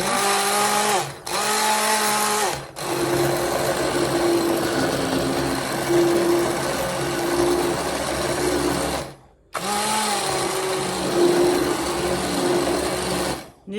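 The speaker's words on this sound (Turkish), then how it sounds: "Ben bunu blender'a vurup geliyorum." A blender makes a loud, steady motorized whir in long bursts while grinding keşkek, stopping briefly twice before starting again.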